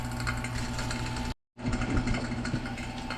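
A vacuum pump runs steadily on a Saab 9-7X air-conditioning system, a close, even motor drone that cuts out for a brief moment and then resumes.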